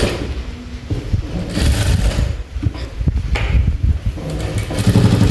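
A sewing machine stitches a round belt blouse in bursts of loud, close rattling with uneven stops and restarts.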